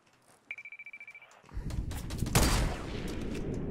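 Rapid Fortnite gunfire opens with a quick string of evenly spaced sharp shots and a tonal beep, then builds into a loud, dense barrage of blasts and rumbling impacts close by.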